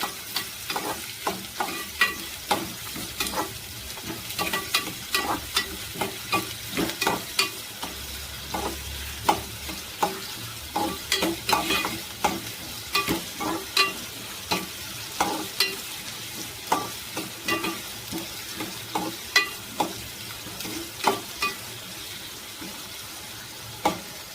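Onion softening in a pan for a Maharashtrian prawn curry, sautéed until golden brown: a soft oily sizzle broken by frequent sharp clicks and scrapes of a spoon stirring, with no one talking.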